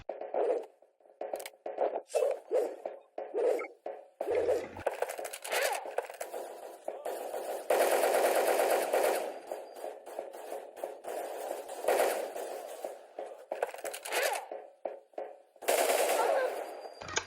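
Rapid bursts of automatic gunfire in a video game, loud clattering volleys and single shots in irregular clusters separated by brief pauses, with faint talk mixed in.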